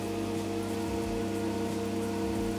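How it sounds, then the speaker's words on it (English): Aquarium pumps run in a fish store, making a steady, fairly loud mechanical hum with tonal drones and a constant watery hiss, with no speech over it. "this is where a lot of the pumps are located in the store, so apologies if it's a little bit loud in the background"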